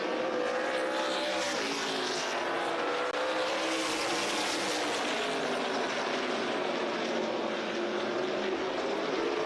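Race cars roar around the Tri-County Speedway dirt track during a Grand National Super Series race, a dense continuous engine drone that swells and shifts in pitch as cars pass, loud and steady throughout with no talk.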